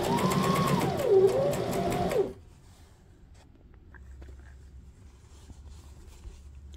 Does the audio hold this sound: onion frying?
no